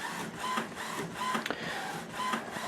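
An HP OfficeJet Pro 8710 inkjet printer printing in quiet mode, its print head shuttling back and forth in steady rhythmic passes with soft whirring and clicking, close and moderately loud with no talking.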